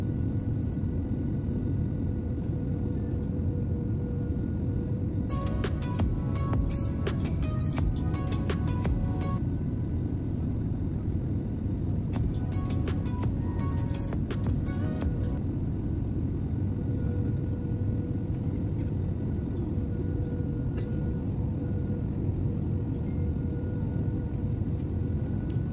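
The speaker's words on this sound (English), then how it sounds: "Here is touchdown at Bangkok Airport" A passenger jet touches down at night at Bangkok Airport, heard from inside the cabin as a steady low engine and road rumble that stays fairly constant throughout, with brief clattering bumps from the landing gear.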